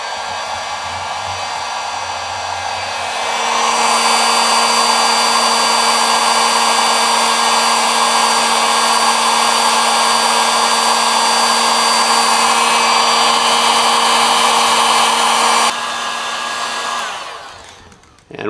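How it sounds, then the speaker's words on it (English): A heat gun switches on and blows with a loud, steady whine and rushing airflow, heating adhesive-lined marine-grade heat shrink on spliced power wires for a trolling motor, running continuously before winding down near the end. "now I'm going to get the heat gun fired up"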